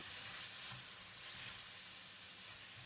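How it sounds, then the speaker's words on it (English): Minced pork with light soy sauce stir-fries in a very hot pan, giving a faint, even sizzle and hiss that holds steady for a few seconds with no talking. "Add in the light soy sauce. Stir to mix."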